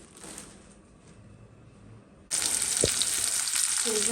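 Onion, chili, cardamom and garam masala drop into hot oil, bursting into a loud, steady sizzle after a quieter stretch of low kitchen noise, with a faint stir or clink near the end.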